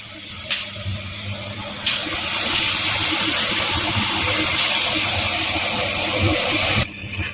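Water at a rolling boil in a pot on the stove, a steady loud hissing, bubbling roar that holds for several seconds and cuts off near the end.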